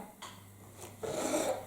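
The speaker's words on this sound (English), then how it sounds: "Coming back through the kitchen, I can hear it's hard boiling." A pot boils hard on an electric stove set to 3 out of 6, giving a low rumbling bubble that grows louder and rougher partway through, with faint kitchen clatter.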